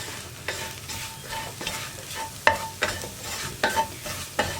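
A spoon stirs spice powders frying in oil in a pan for soya roast, with repeated scraping strokes roughly every half second over a steady low sizzle, close and clear, without talk.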